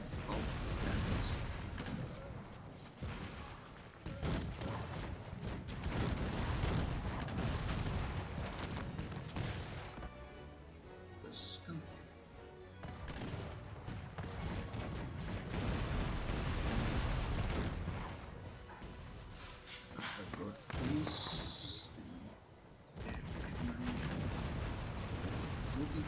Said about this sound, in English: Yeah, cannons. Look at this. Oh, cannons.